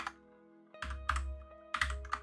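Several keystrokes on a computer keyboard while code is typed, clicks arriving in two short clusters over a steady low electronic hum, close and clear with no talking.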